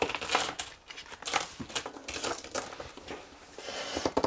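Euro coins jingling and clinking as they are handled and counted by hand, close and continuous with repeated metallic clatters.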